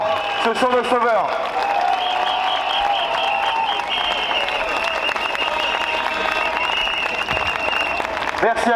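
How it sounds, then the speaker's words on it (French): A rally crowd applauds steadily in a dense, continuous wash of clapping, with a loud voice carrying over it through most of the stretch. "On peut même les applaudir bien plus fort"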